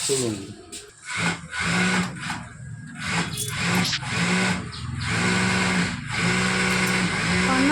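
A power sewing machine hums and whirs steadily at close range, its motor tone rising and dipping as speed shifts, with people talking over it.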